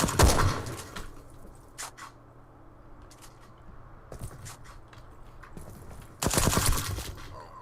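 Gunshots in the arena shooter SkillWarz, heavy bursts of rapid fire at the start and near the end, with scattered single cracks between them over a low background hum.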